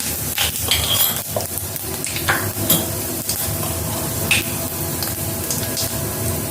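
Bay leaf and panch phoron sizzling in hot oil, a loud, close, continuous crackling sizzle with scattered pops and stirring scrapes.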